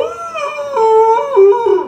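A voice mimics a one-eyed fox with a drawn-out, wavering howl that rises and dips in pitch like a dog's whimpering yowl, loud and close, all in one breath.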